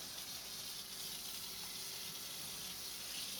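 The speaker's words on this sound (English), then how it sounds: "You want to rinse very well right here." A tie-dyed shirt is rinsed under a running tap, with a steady, even rush of water hissing continuously and close by, with no voices.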